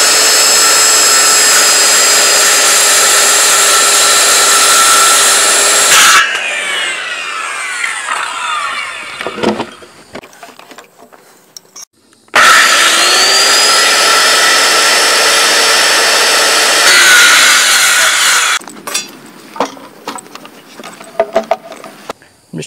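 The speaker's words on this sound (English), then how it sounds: "Now I'm just going to take a skill saw to cut this." Circular skill saw cutting through a log for a dovetail log cabin, loud whining bursts of about six seconds each, two long cuts separated by the motor spinning down and quieter clattering handling noise.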